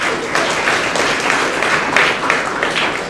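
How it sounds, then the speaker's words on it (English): An audience at an alumni chapter launch applauds steadily, a dense, even wash of many hands clapping close by for about three seconds with no pause. "We should give a great applause."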